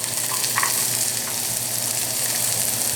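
Onion and garlic fry in a hot pan with a loud, even, close-up sizzle that barely changes, with a few faint clinks near the start.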